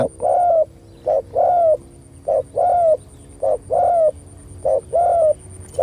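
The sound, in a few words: spotted dove cooing, decoy bird for trapping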